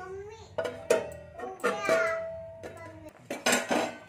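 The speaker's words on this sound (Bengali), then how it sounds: "একটু ঢাকা দিয়ে দিচ্ছি" Lid set over a cooking pot of potatoes simmering in water: a few metallic clanks and rattles of pot and lid, close and moderately loud, with a voice babbling and speaking in the background.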